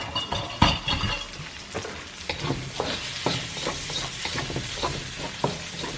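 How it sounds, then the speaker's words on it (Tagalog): Food sizzles and crackles in a frying pan as it is sautéed ahead of adding mung beans, with repeated stirring scrapes and spatula clicks close by and no speech. "Gisa natin muna siya, gisa."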